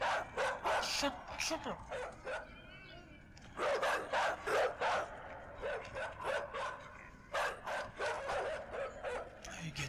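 Dogs in the video game Inside bark and yip in rapid, repeated bursts throughout, loud and close, while someone talks over them.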